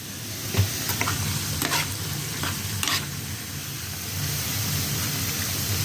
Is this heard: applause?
no